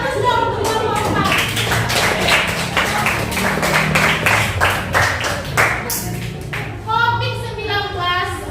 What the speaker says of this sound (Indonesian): beri aplaus dong untuk Bapak